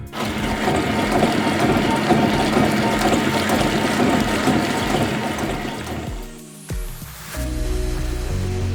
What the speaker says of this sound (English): this Christmas tree wrapping machine is a game changer